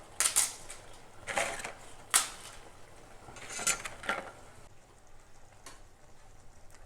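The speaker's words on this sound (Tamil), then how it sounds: "அப்பளத்தை 1-2 உடச்சி இதில் போட்டுருங்க." Crisp appalam papads snap by hand into a pan of coriander kootu, a South Indian side dish, giving several sharp crackling bursts spaced a few seconds apart, close and fairly loud, with quieter clinks and a faint sizzle between them.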